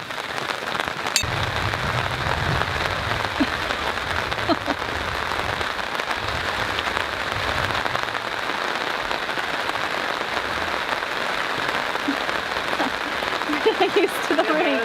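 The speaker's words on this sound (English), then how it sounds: "we're gonna hide under the Easy Up out of the rain" Steady rain patters on a surface and on an Easy Up canopy over a garden shed build site, a continuous dense hiss with occasional louder drops and brief low sounds near the start.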